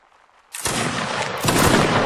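Musket volley fire in a Mount and Blade Napoleonic-style regimental match: after a quiet moment, a dense, roaring crackle of many shots erupts, then a second wave of rolling fire follows, loud and sustained.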